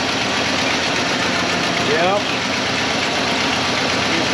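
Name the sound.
truck engine running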